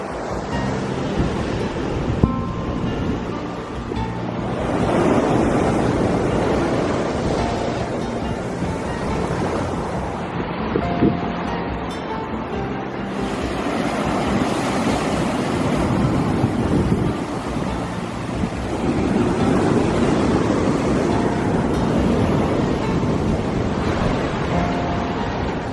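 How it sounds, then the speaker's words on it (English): Ocean waves roll in on a rocky California coast at dawn, a steady loud surf with repeated swells and wind buffeting the microphone, no voices. "the tide's coming in a little too fast because my bag just got hit by a wave"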